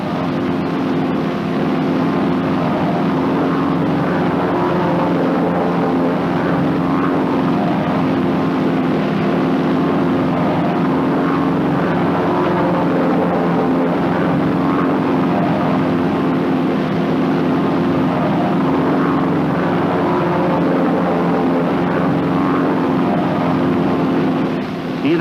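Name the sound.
North American T-6 Texan propeller airplanes flying in formation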